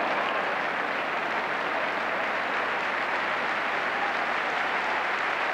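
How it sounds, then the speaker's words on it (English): Football crowd applauding at a 1981-82 West Ham United versus Manchester United match, a steady dense roar of clapping and cheering that holds loud and unbroken throughout. "Applause all around."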